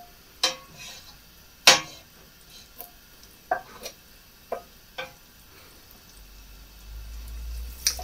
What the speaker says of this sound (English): Just try and get melt this butter properly.